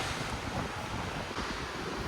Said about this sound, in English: As soon as you get around the side it starts getting a bit louder because of the waves obviously.